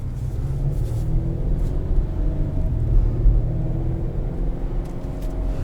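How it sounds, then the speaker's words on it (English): A 2021 Acura RDX A-Spec with a two-liter turbocharged four-cylinder and 10-speed automatic pulling away; a steady low engine and road rumble heard from inside the cabin, with no sharp revving. "Two-liter turbo 4-cylinder, mated to the 10-speed automatic."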